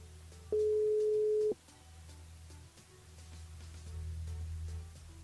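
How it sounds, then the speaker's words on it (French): A telephone line tone sounds while a radio station calls a listener: one steady electronic beep of about a second stands out, followed by a quieter line hum and faint clicks. "On rappelle Patrick."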